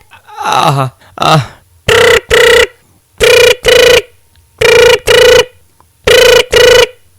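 A telephone rings repeatedly in paired bursts, loud and close, after a short vocal sound at the start.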